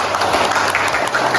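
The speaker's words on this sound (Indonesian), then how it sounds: "Tepuk tangan dulu." Audience applause at a university teaching seminar, a steady wash of clapping from many hands, fairly loud and continuous without distinct individual claps standing out.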